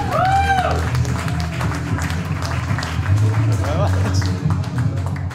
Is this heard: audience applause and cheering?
yes